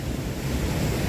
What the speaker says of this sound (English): We're watching these waves come in and they're hitting this break wall right here